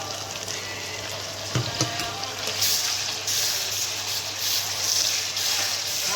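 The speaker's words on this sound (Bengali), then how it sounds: "আদা রসুন বাটাটা একটু ভেজে নেব।" Ginger-garlic paste frying with browned onions for chicken curry, a steady soft sizzle with a couple of stirring clacks and a speaking voice over it.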